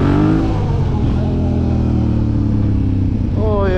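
Close, loud motorcycle engine revving steadily with a deep rumble, pitch holding then climbing sharply at the end.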